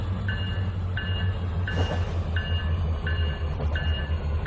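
A train in the Trainz 2019 simulator easing toward a passenger station, with a steady low rumble of wheels and engine and periodic faint clicking beats over the track noise.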